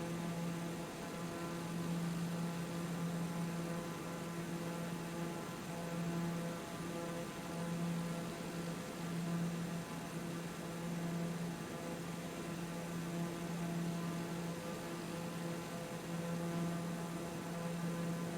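A drone in a flight video game gives off a steady, angry wasp-like buzz, a continuous droning whine that holds level and fairly loud for the whole stretch with no talking.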